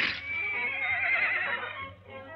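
A horse in a Western setting lets out one long, loud whinny that trembles and slowly falls in pitch, heard clearly on its own with nothing else around it.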